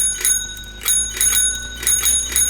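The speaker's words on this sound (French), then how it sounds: "Avec un peu de chance, vous entendrez ma sonnette." A video game bicycle bell rings in quick bursts, several bright dings repeated at intervals, clear and near, over faint background noise.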